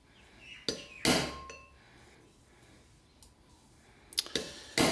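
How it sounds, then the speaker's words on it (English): A hammer strikes a center punch on metal while holes are marked on a DIY engine part. Several sharp, close metallic clinks come at irregular intervals against a quiet room. "striking it with a center punch"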